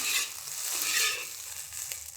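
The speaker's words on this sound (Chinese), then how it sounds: "热锅下油，先把鸡蛋炒了" Eggs stir-frying in hot oil in a wok: a steady bright sizzle with soft scraping stirs, close and fairly quiet, no talking.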